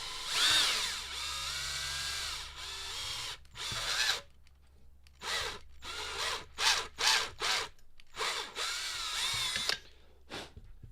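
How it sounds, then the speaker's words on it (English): A power drill whines in repeated bursts drilling out kick pedal parts, first long runs then a series of short rhythmic pulses, close and loud with pauses between. "I'm going to drill these out too."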